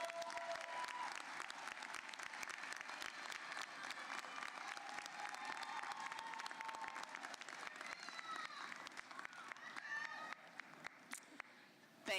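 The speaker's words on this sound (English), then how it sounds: "Could you please give a round of applause to all the friends and family members who brought you to this day?" A large audience at a Trinity University winter commencement claps steadily for friends and family of the graduates, dense sustained applause that thins slightly toward the end, with faint scattered voices mixed in.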